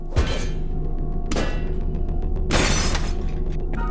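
Objects shatter in the video game A Song of Sunlight, three loud smashing bursts spaced across a few seconds over a steady game soundtrack.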